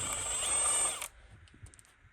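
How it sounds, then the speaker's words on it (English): A pneumatic impact wrench spins off a 14mm castle nut on a Polaris Sportsman ATV's ball joint during a repair, giving one loud sustained whir of about a second that cuts off sharply, followed by faint clinks and handling noises. "It's a 14mm nut. We'll just pull that off with the impact."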